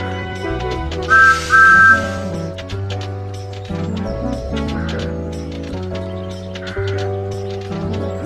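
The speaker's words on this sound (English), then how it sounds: "This is Thomas's whistle." Thomas the Tank Engine's whistle sounds in a children's video game, two short bright toots near the start, loud and close over a playful background music loop with light percussive clip-clop effects.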